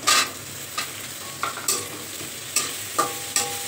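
Potato pieces fry in a pan, a soft continuous sizzle broken by about eight sharp scraping stirs at irregular intervals, close and moderately loud with no voices.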